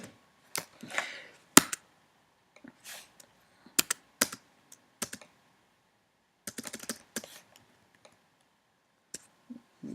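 Python code being typed on a computer keyboard: scattered bursts of crisp key clicks with short pauses between them, close up in a quiet room, with no voices.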